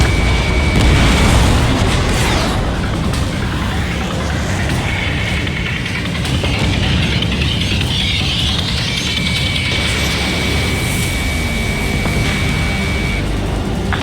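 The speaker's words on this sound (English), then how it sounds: "Missile away." Missile launch and explosions during a jet dogfight in Ace Combat 7, a loud continuous roar of jet engines with rumbling booms and a whooshing missile sweep, no talk.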